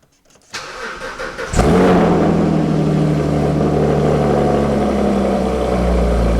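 A Porsche engine cranks briefly and catches, then settles into a loud, steady idle close by in the early morning, with no talking.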